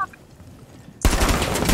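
Gunfire in Rainbow Six Siege starts abruptly after a second of quiet with a faint tone, then rapid, loud, continuous automatic shots fill the rest of the short clip.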